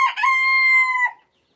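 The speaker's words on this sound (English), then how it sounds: "This is Rowdy. He's a little rooster I hatched back in October" A young rooster, hatched in October, gives a single short, clear crow on a farm, loud and close, ending abruptly into silence.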